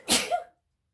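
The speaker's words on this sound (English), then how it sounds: "I think I'm going to sneeze" A single close sneeze, a sharp burst that breaks off quickly into silence.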